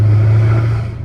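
Dodge Hellcat Redeye with an 850 HP engine idling around 2,000 RPM, a loud, close, steady low rumble that holds and then begins to fade slightly.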